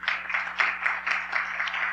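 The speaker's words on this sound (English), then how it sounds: "Let's give them a round of applause." An audience claps for school principals at a board of education meeting, a steady patter of moderate applause from a medium-sized group, fairly close and without talk.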